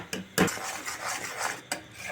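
A spoon stirs milk in a pot as it thickens for kulfi, making a continuous close rubbing scrape with sharp metallic knocks against the rim at intervals.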